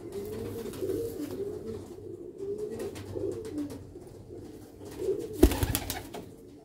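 A black-faced Sialkoti pigeon chick coos softly in a steady, low murmur, with a brief sharp knock near the end.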